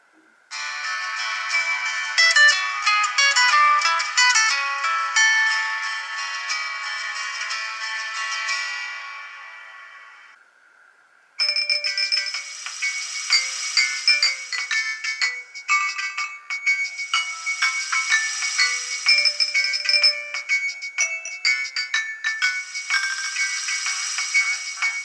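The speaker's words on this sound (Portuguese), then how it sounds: "Eu também vou botar um vídeo aqui mostrando como que era o barulho dos ringtones" Old mobile phone ringtones play one after another, bright polyphonic melodies ringing loud and alone, with a brief gap of silence before a busier, more rhythmic tone takes over.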